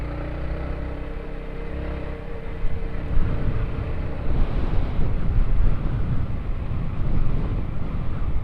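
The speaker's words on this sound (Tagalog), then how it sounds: "Oh, ang lakas ng hangin." Strong wind buffets the microphone in a continuous low roar on the Villa Verde Trail road between Pangasinan and Nueva Vizcaya, gusting louder partway through, with a broad rushing sound like surf in the background.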